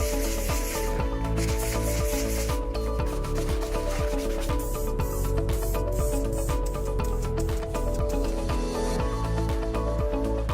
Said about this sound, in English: I'm going to scuff it up lightly with some sandpaper